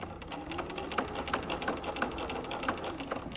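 A sewing machine stitches a fabric label onto a quilt, giving a steady run of quick rapid clicks with slight pauses as the needle drops and the quilt is turned.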